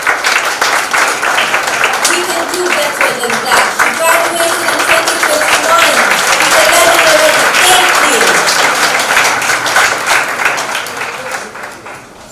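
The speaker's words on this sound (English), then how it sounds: "Please welcome her with a round of applause." Audience claps for a speaker at an academic conference, a dense round of applause building and then tapering off, with someone talking over it near the mic toward the end.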